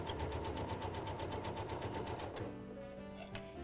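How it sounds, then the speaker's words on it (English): A sewing machine stitches a non-skid pet bowl mat in a fast, even run of needle strokes that slows and stops partway through, followed by a faint mechanical hum and a single click. "I just like to give it a little extra stitching just to make sure that they're held in place."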